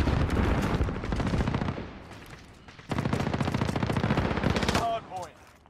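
Automatic weapon fire in Call of Duty: Modern Warfare multiplayer, loud sustained bursts of rapid shots, a brief quieter gap around two to three seconds, then another long burst before fading.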